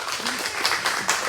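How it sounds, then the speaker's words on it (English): A dense round of applause from an audience cheering its leaders at a LinkedIn profile-building event, steady clapping holding at an even level throughout with brief surges. "Keep the round of applause going for your amazing leaders."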